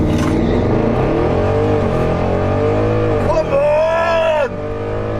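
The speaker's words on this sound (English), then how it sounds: "I took my draggy box with me to Santa Pod recently in the Audi RS6, and here's a clip from Santa Pod." A 700 BHP Audi RS6 launches down the Santa Pod drag strip, its engine loud and close as the pitch climbs through the gears with brief dips at each shift.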